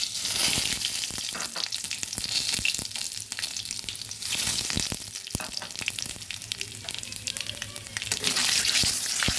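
Bay leaf and panch phoron spices sizzle and crackle steadily in hot oil in a pan, with occasional stirring scrapes, close and continuous without talk.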